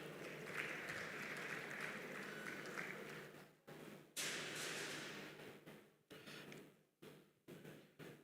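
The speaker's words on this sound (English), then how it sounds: "Please a round of applause for her as she comes." Faint, distant applause from a conference ceremony audience, continuous at first and then breaking into shorter bursts separated by gaps.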